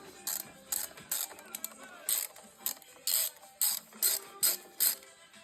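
A ratchet wrench clicks in repeated bursts, about ten short runs of rapid pawl clicking in a steady rhythm, close and clear, as a 10 mm bolt is removed from a Piaggio MP3 scooter near a cable. No voices.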